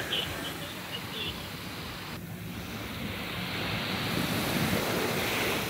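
Sea waves wash onto a Mediterranean beach in Antalya, a steady broadband roar with wind buffeting the microphone, swelling slightly louder toward the end; no talking.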